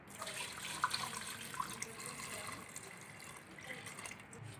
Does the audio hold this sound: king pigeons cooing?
no